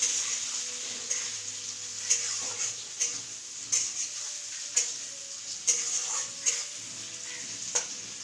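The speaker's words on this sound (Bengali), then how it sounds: "ওই তেলের মধ্যেই আমি দিয়ে দিলাম পেঁয়াজ কুচি আর টমেটো কুচি" Chopped onion and tomato sizzle in hot oil left over from frying fish, a steady close crackle broken by a string of sharp spatula scrapes and taps as the mixture is stirred, with no voices.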